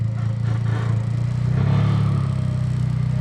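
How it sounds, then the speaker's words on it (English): An Acura RSX Type S makes a loud, steady low grinding rumble from the steering rack while the car turns, sustained and close, with no talking over it. "whenever I turn the car this way, it makes a really, really big noise"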